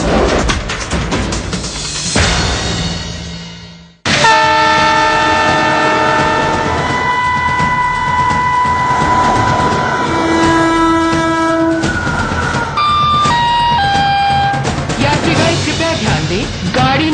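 An Indian Railways train rumbles past with sustained, loud horn blasts that change pitch partway through, over continuous wheel and carriage noise heard nearby.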